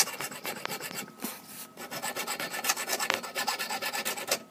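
A hand file sharpening the blades of an electric hedge trimmer, heard as rapid repeated rasping strokes in close, rhythmic bursts with a short pause near the start, and no talk.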